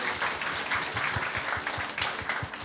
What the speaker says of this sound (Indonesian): Oh, boleh berikan tepuk tangan.